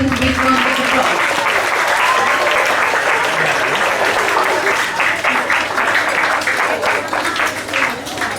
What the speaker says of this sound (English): Children, please give them a big round of applause.